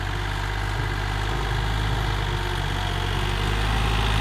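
A Yanmar 39 hp tractor engine works a field with an SBK rotary tiller, giving a steady, loud low-pitched rumble with constant vibration that holds level for the whole stretch, with no voices.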